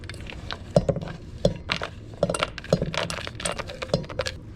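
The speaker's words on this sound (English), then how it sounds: "I'm going to go ahead and get these all tossed to coat" Honey-coated almonds tossed in a cocoa powder and cinnamon mixture, giving close, irregular clicking and rattling as the nuts knock against each other and the bowl, with no talk.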